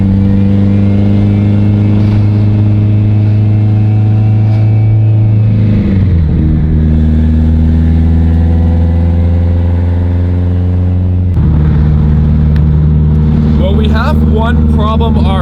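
A 1000 whp Subaru STI roars under load on a dyno, its deep engine drone holding steady and then shifting pitch twice as the revs change, loud and close throughout.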